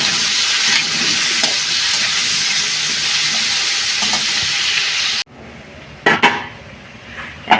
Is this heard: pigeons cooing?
no